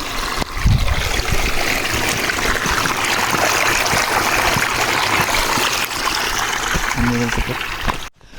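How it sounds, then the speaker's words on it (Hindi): A stream at Satkunda waterfall flows in a loud, constant rushing wash close by, with someone speaking over it briefly and a couple of low thumps. "पानी आ रहा है"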